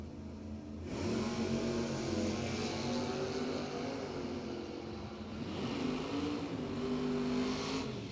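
Harbaugh's Pontiac door-car drag racer roars down the strip in a head-to-head Door Wars run, a loud, sustained engine blare that kicks in after a brief quiet start and holds steady to the end.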